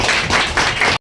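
Audience clapping at a gathering honouring matriculation toppers, a loud dense burst of applause close up that stops abruptly after about a second.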